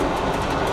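A train rolls along with a steady rumble and faint rhythmic clatter, close and continuous.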